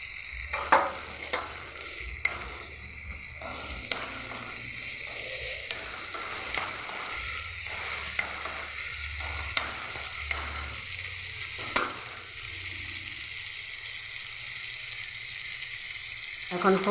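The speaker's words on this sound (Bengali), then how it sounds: "আর 2 চামচ টক দইয়ের মধ্যে আমি কাশ্মীরি লঙ্কার গুঁড়ো ফেটিয়ে রেখেছিলাম। এখন টক দইটাকে দিয়ে দিলাম।" Yogurt whisked with Kashmiri chilli powder sizzles in a pan during a paneer recipe, a steady hissing fry broken by regular spatula knocks and scrapes against the pan.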